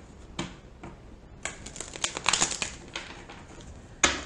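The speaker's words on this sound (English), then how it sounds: "One more shuffle." Tarot cards being shuffled by hand: a few soft, scattered riffles and crisp papery flicks, quiet and close, with a denser flurry near the middle and one sharper snap at the end.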